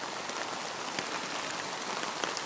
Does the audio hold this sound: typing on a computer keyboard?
no